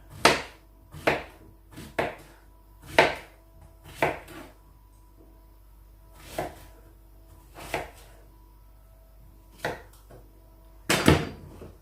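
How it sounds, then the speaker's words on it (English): Rough chopping of vegetables for ratatouille on a cutting board, a knife striking wood in about a dozen sharp, separate chops spaced irregularly, close and fairly loud against a quiet room with no talking. "So just rough chop them down."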